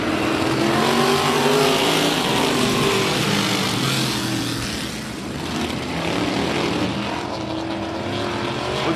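Modified race cars pack together on the oval at Big O Speedway, a dense continuous roar of several engines with rising and falling pitch as the field accelerates past, loud and steady throughout.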